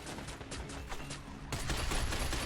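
Sustained automatic gunfire in the shooter game Binary Domain, dense rattling bursts that grow louder and brighter partway through, close and continuous with no talk.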